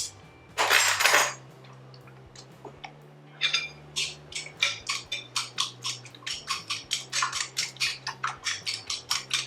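Pecan pie filling is whisked in a bowl, starting with a loud burst of rattling, then a steady, rhythmic series of metallic clinks and taps against the bowl, close up and without speech.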